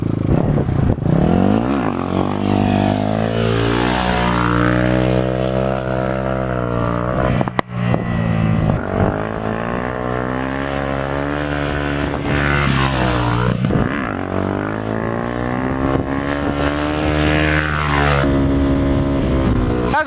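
A Kovi Max 300 motorcycle engine pulls hard in third gear, its loud buzzing note sweeping up and down in pitch with throttle changes, close and continuous for the whole stretch.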